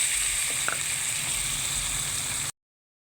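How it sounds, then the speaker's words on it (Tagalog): Garlic, onion and tomatoes sautéing in a pan, a steady close sizzle with a brief clatter partway through, then abruptly cut off. "Ito, ginisa ko tong bawang sibuyas. Lagay natin itong kamatis."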